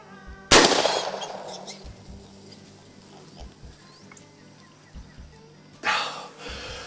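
A single loud gunshot from a hog and deer hunt rings out sharply at once, followed by faint rustling and small knocks, then a second burst of noise near the end.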